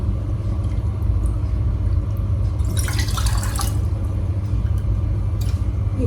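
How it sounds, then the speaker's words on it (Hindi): One cup of water is poured into a pan on a gas stove in a brief splashing gush lasting about a second, set against a steady low rumble. "1 कप पानी,"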